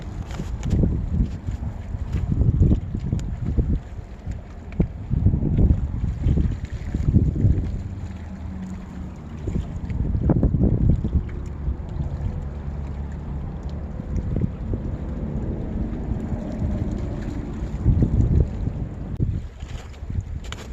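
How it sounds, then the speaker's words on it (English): Breezy wind gusts across a frozen reservoir during ice fishing, buffeting the microphone in loud rushing swells that rise and fall over a steady outdoor hiss. "it's pretty breezy"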